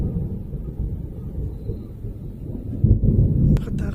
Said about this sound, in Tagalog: Nakatakot yung kidlat, kulog.